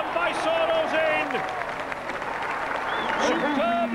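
Rugby league crowd at a 1995 World Cup match between Fiji and South Africa, cheering and applauding after a try, a steady loud roar beneath a commentator talking throughout.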